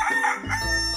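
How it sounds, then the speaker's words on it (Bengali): A rooster crows once as a sound effect in a Bangla alphabet learning song, a short, loud, close cock-a-doodle-doo heard on its own. "মোরগ হাটে ঝুটি নেড়ে।"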